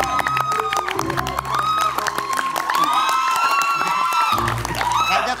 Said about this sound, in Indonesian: tepuk tangannya semua.